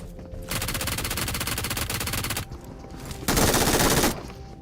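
Rapid automatic gunfire in the mobile battle royale game BGMI, a long sustained burst of evenly spaced shots followed after a brief pause by a second louder burst, with no talking.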